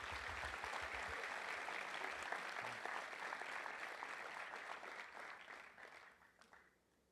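A church congregation applauds during a sermon, a dense, continuous wash of clapping heard from some distance that holds steady, then fades out toward the end.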